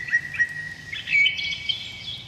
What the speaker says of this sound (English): to the sound of the birds